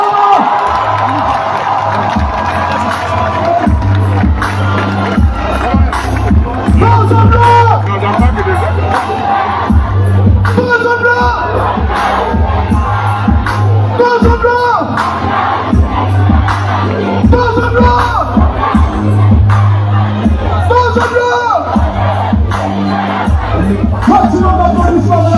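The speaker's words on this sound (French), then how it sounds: "Maximum d'applaudissements, mesdames et messieurs." A large crowd cheers and shouts at a public event where the transitional president visits Makokou, keeping up a loud, continuous roar of voices and whoops for the whole stretch.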